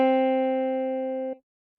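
A lone sampled guitar note from an Ableton guitar pack rings steadily for over a second, then cuts off abruptly, clean and close with nothing else around it.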